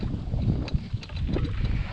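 Gusty wind buffets a GoPro microphone on a golf course at Chingford near London, producing a loud, continuous rumbling roar with brief bumps of handling noise and no speech.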